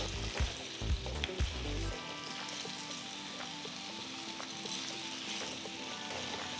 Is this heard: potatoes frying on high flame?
yes